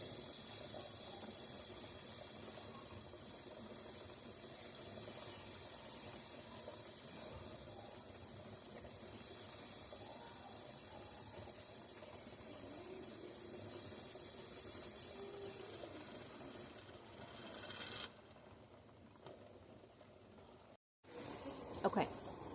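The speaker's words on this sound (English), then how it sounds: "He's blowing steam." Steady loud hissing of steam venting continuously from a pressure canner, like a pressure release, with faint voices underneath before it cuts off abruptly near the end.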